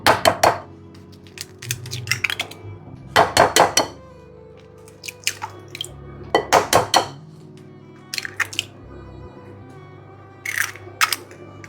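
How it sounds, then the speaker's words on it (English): Three eggs are cracked into cake batter for coffee cupcakes, with clusters of sharp taps and clinks against a bowl, followed by quieter knocks and small shell and crockery sounds, close and without talk. "Now we're going to crack in 3 eggs."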